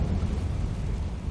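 A Confringo spell blast in Hogwarts Legacy, one continuous deep, rumbling explosion that stays loud and dense for about a second with no voices over it.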